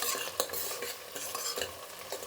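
Onions frying in a pan being stirred, scraping strokes over a constant hissing sizzle, close and moderately loud with no talk.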